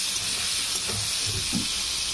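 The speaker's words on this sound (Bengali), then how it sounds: "হলুদ গুঁড়ো, আলু কুচিগুলো দিয়ে দেবো, দিয়ে এটা আমি ভেজে নেব" Chopped potatoes with turmeric frying in a pan, a faint continuous sizzle with a couple of soft stirring bumps, fairly quiet and short, no voices.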